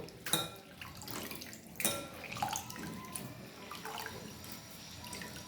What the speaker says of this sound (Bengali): এবার যেটা করব, ভালো করে জলটা চিপড়ে নেব।